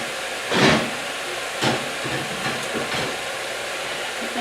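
Water hisses and steams in a pan of kielbasa and cabbage, with a few louder bursts of sizzle and spatter rising over a steady hiss.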